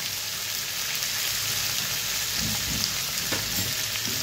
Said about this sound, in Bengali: ভালোভাবে ভেজে নিই, তারপরে মশলাগুলো ছেড়ে দিই।